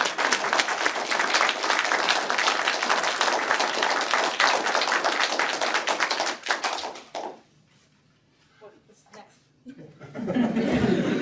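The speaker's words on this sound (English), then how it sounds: "let us give him a big round of applause for his achievements in research" Audience applause following a distinguished professor's lecture: loud, dense clapping for about seven seconds, then a near-silent lull with faint scattered sounds, before clapping swells again at the end.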